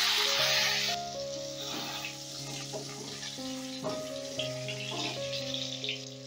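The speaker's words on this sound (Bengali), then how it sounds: "এবারে আমি ওই তেলেই ভেজে নেব আলু।" Halved pressure-cooked potatoes fry in oil left from frying raisins, a close steady sizzle and crackle under sustained background music.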